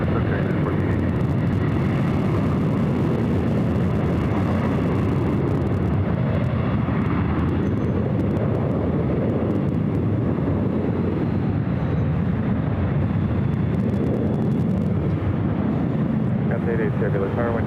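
A WestJet Boeing 737-800 bound for Vancouver takes off from LAX runway 24 left, its engines a loud, sustained roar rumbling for the whole stretch.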